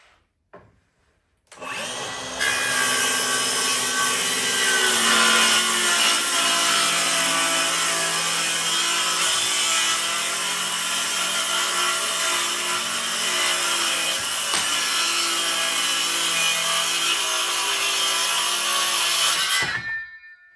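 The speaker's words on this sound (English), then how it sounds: "So I'm gonna trim here and also trim this side." Wood trimmed with a power saw, a loud sustained whining cut running steadily for about eighteen seconds after a couple of quiet knocks, close and with no speech.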